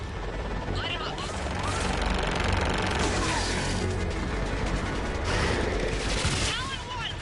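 Air support gunship firing on ground targets in the Mass Effect 3 video game, a dense, continuous barrage of gunfire and booms with aircraft rumble, loud and sustained throughout, with radio voices talking over the action.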